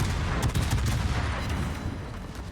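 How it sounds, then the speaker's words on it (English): Heavy cruiser Annapolis guns in World of Warships fire a burst salvo, rolling rapid booming reports layered over a continuous low rumble, loud and dense before easing slightly toward the end. "next salvo is a burst fire"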